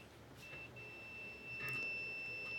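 A multimeter's continuity test beep sounds as a thin, steady high tone in a few short bursts that then hold on, quiet and alone over faint background noise.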